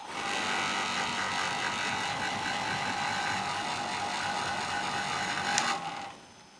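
An electric coconut grater machine, just repaired after failing completely, runs with a steady whirring motor drone and a high mechanical whine for several seconds before winding down.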